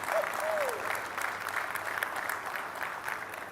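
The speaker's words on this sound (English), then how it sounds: "Can we have a round of applause for our engineering team?" Audience applause at a car launch event, a dense steady clatter of many hands clapping throughout, with a faint voice briefly over it.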